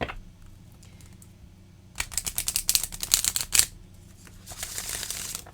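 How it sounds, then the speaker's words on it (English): A deck of oracle cards is shuffled by hand, first a quiet stretch and then a rapid riffle of crisp clicking card flutters building to a sharp finish, followed by softer rustling, close and clear with no talking. "All right, one more shuffle like this."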